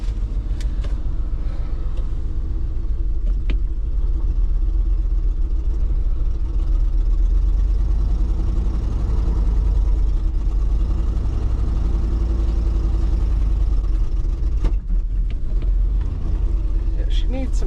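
A jeep engine idles steadily while warming up, a low, continuous rumble close by that holds even throughout, with a few faint clicks and knocks over it.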